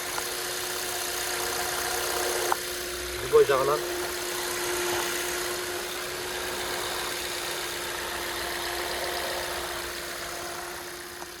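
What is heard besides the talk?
car engine idling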